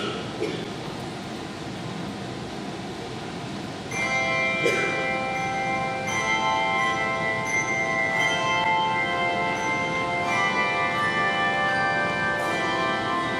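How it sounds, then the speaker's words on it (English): A handbell choir plays during a church worship service, with ringing bell tones entering after a few seconds of hushed room sound and sustaining and overlapping in the resonant sanctuary. "today, we are privileged to have a Zion Bell Choir, along with members of the St. Paul Bell Choir"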